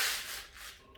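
A bonsai tool is rubbed on a sharpening stone wetted with spit, giving a continuous close gritty scraping that fades slightly toward the end, heard alone for about a second.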